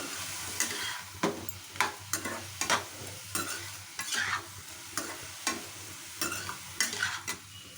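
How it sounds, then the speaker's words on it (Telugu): Radish fry being stirred in a pan: a soft sizzle under repeated rhythmic scraping strokes of a spoon, close and steady, with no voices. "ఇది మళ్ళీ అడుగంటుకోకుండా మనం కలుపుకుంటూ ఉండాలి"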